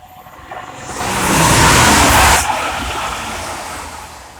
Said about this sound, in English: the next train to pass by is a Grand Central Ante going from London King's Cross to Sunderland